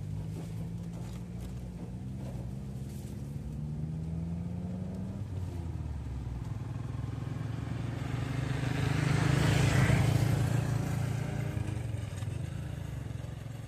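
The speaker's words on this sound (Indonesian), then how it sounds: "masih didominasi oleh kendaraan kendaraan roda 4 yang melintas." Four-wheeled vehicles pass along a road in a steady stream, a continuous low engine and tyre rumble that swells as one vehicle draws close near the middle, then eases off again, with no one talking.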